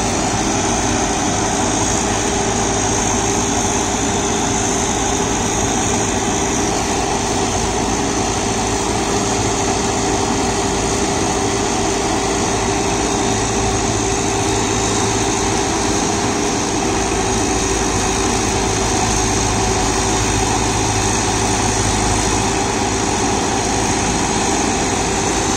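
A New Holland 9010 Excel tractor drives a GS Rhinocer rotavator through banana mulching, producing a loud, steady engine drone with a constant hum that holds unbroken and unvaried from start to finish.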